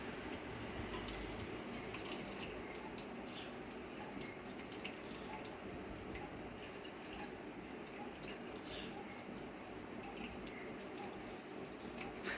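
Water is poured over a deity's idol to bathe and rinse it during a home puja, making a faint, continuous trickle and splashing with light drips, quiet and steady, with a voice speaking softly beneath at times.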